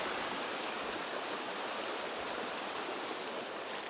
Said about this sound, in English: Wow, the pond is overflowing.